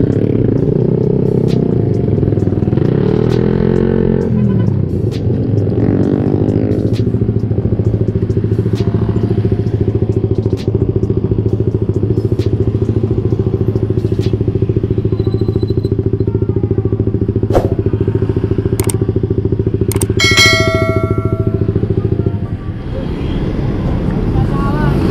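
A Suzuki Satria FU motorcycle engine idles with a loud, uneven low drone that wavers and falters, dropping off near the end, with voices nearby.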